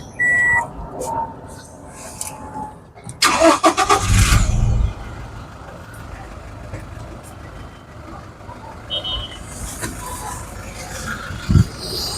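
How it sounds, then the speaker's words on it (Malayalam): A Toyota Innova Crysta 2.4 engine cranks and starts with a short loud burst, then settles into a quiet, smooth idle, while someone speaks over it. "എല്ലായ്പ്പോഴും പറയുന്ന പോലെ വളരെ സൈലൻ്റ് ആയിട്ടുള്ള ഒരു എഞ്ചിനാണ്"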